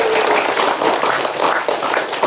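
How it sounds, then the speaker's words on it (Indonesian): Indonesian live audience clapping steadily and loudly, a dense continuous wash of hand claps with no pauses. "Biar semangat dong, tepuk tangan yang kencang dong"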